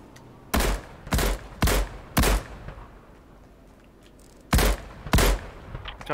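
Gunfire in Fortnite: six sharp, loud shots, four in quick succession, a pause, then two more, close and alone without talk.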